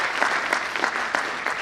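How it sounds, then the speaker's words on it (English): Audience at an international sports and exercise medicine conference clapping for itself, a dense, even burst of applause from a sizable crowd, close and steady throughout. "I would like all of you to cheer for yourself and give a round of applause"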